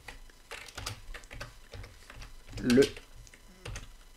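Quick typing of a file name on a computer keyboard, a steady patter of light key clicks with a heavier cluster midway, close and distinct, with a voice speaking in French between keystrokes.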